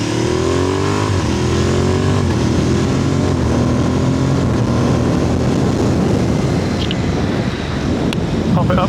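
Motorcycle riding noise with heavy wind buffeting, captured by a mic clipped to a mirror bolt; a loud, steady engine drone with rising revs and dense, continuous wind roar throughout, close and constant.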